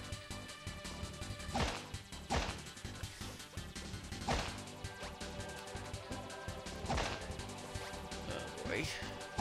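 Heavy smashing blows in Kirby 64 as King Dedede breaks through pillars, several loud crashing impacts spaced irregularly over a steady game backdrop.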